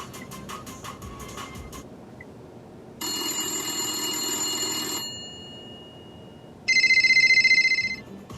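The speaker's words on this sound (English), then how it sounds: "you can also change the ringtone if you'd like." Ringtone samples from a 2017 Buick and GMC IntelliLink infotainment system: a rapid trilling electronic ring, then a longer bright tone, and finally a louder, short burst of chiming rings, each separated by quiet gaps.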